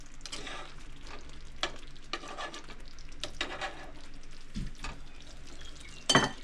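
Sausage simmers in a thickened sauce in a pan with a soft, steady sizzle. Close stirring scrapes and a clink of a utensil break in now and then.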